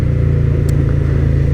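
Suzuki SV650 motorcycle, 2021 ABS model, with stock exhaust, idling steadily nearby in a deep, even, loud engine rumble with a pulsing low throb and no talk.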